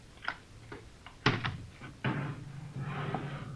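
Closet door being opened, a few faint clicks and knocks followed by a louder wooden thump and creak, then a soft rustle, close and without speech.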